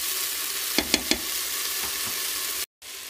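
Meatballs for meatballs in tomato sauce frying in a pan, a steady close sizzle with a few short clicks and stirring knocks, no talk.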